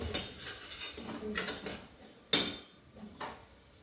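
A spatula works softened onion and turmeric around a pan in a few quiet, uneven strokes. There are soft scrapes and light metallic clinks, including one sharper clack midway, and no talking.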